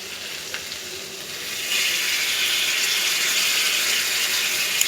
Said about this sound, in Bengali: এবার আমি একটু একটু করে জলটাকে অ্যাড করছি।